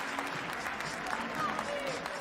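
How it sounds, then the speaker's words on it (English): Crowd applause rolls through a stadium at an athletics meet in Santa Cruz de Tenerife, a steady distant wash of clapping with a commentator's voice running over it. "os voy a pedir otro aplauso fuerte para Jaime Guerra"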